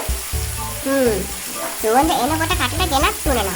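Dried sprats being fried in a pan with salt in a Sri Lankan kitchen, a steady hissing sizzle that runs underneath someone talking, close and moderately loud.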